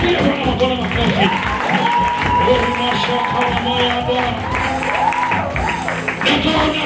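A church congregation claps and cheers during a Christmas sermon, loud, sustained applause mixed with shouts and a preacher's voice talking over the crowd throughout.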